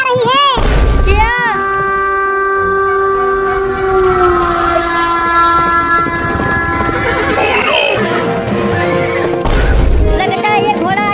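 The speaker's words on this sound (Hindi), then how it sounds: "अरे दादा, ये घोड़ा ट्रेन की लाइन पर ही दौड़ने लगा।" Cartoon horse running along a railway line, with loud high whinnies at the start and end, a long sustained train-horn-like tone in between and pounding thuds, all up close.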